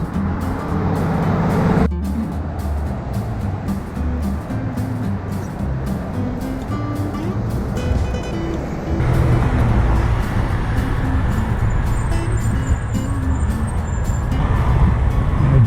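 Highway traffic on I-95 rumbles overhead as a rider passes beneath, a dense, continuous roar of cars and trucks with a brief thump and a surge in intensity partway through, heard close and alone.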